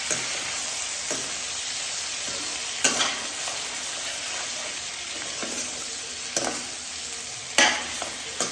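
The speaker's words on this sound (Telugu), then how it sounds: "వీటిని బాగా వేగనివ్వండి," Chicken pieces fry in a pan with a continuous, dense sizzle while a utensil stirs them, producing several sharp scraping knocks at irregular intervals; close and unaccompanied by speech.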